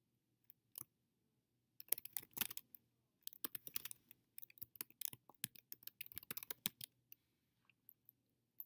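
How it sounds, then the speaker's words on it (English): Typing on a computer keyboard: irregular bursts of close, crisp key clicks, fast runs separated by short pauses, with no voices. "Under here where it says Post Comments, you can type in what you need to say."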